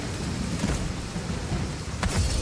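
Steady broadband rain hiss fills a Total War: Pharaoh battle, with a faint low rumble like distant thunder and brief brighter bursts, no talking.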